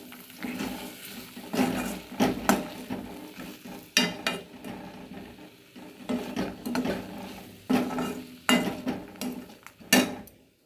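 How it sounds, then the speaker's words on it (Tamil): Black sesame chutney mixture being stirred in a pan for an Indian home recipe, with repeated scraping and clinking of a spoon against the metal, faint sizzling underneath, and irregular strokes throughout. "இப்படி நல்லா கலரி விட்டுருங்க இந்த சூட்லேயே வந்து இது எல்லாத்தையும் ஒன்றா மிக்ஸ் ஆகிடும்"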